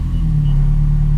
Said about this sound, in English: So if I start my car up now,